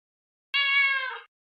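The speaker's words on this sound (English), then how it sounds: "Get Dreams' cats up here, see what they sound like." A single short cat meow, clear and close, rising then trailing off, surrounded by silence.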